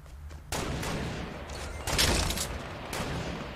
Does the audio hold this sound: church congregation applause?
no